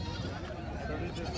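Goats bleat amid the dense crowd noise of a goat market in Vasmat, with people talking throughout in a steady, busy background.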